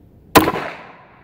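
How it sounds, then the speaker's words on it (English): A single sharp pistol shot from a Kel-Tec PMR 30 firing Winchester Super X ammunition, loud and close, followed by a brief fading echo. "That gun shoots pretty good with Winchester Super X."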